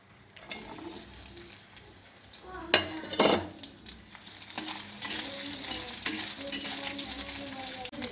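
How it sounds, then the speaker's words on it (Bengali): Small chopped coconut pieces fry in oil in a wok, a close crackling sizzle with metal scrapes and clinks as a spatula stirs them. "লাল লাল করে ভেজে নিয়েছি নারকেলটাকে।"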